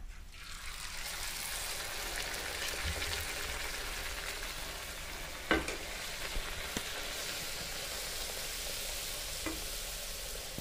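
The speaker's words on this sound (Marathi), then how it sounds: "मोठ्या मोठ्या पुऱ्या बनवलेल्या आहेत आणि ह्या आपण आता तळून घेत आहोत" A steady, even hiss of puris deep frying in hot oil runs throughout, broken by a couple of faint clinks from a utensil.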